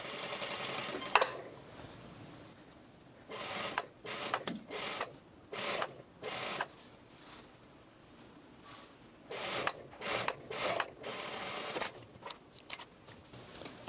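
A sewing machine stitches down the second side of twill tape on a pair of pants, running in a series of short and longer bursts with brief pauses between, close and clear with no talk.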